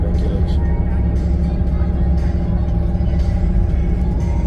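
A car drives along a road near Progreso in Mexico's Yucatán, a heavy continuous low rumble from inside the vehicle filling the whole stretch under occasional talk.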